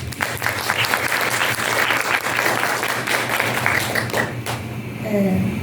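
An academic audience at an Amazon-region teacher-education event claps to welcome Professor Luana Rodrigues, a steady, dense round of applause filling the room and tapering slightly near the end.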